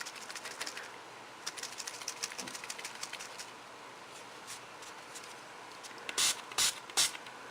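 Colour being sprayed onto small paper macaron flowers, heard as soft hissy bursts that come and go, ending in three short, louder spray blasts close by.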